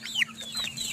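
An ulikba chicken on a cold mountain farm gives a faint, brief cluck with high chirpy calls close by, lasting about a second.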